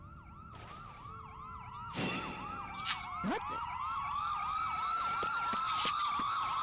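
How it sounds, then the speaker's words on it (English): Multiple video game ambulance sirens wail and yelp at once, overlapping in steady cycles with a background rumble and a few brief bangs, while a voice briefly reacts. "Ambulances. Tons of them."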